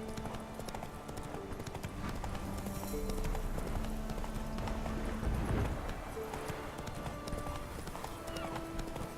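Roach, the horse in the video game Witcher 3, gallops with rhythmic clip-clopping hooves, steady and close, alongside game ambience and faint music.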